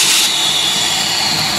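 Small block V8 with Edelbrock Pro Flo fuel injection, converted from a carburetor, firing up: a loud, steady roar with a bright hissing edge that holds nearly unchanged through the short moment, close by and with no voices.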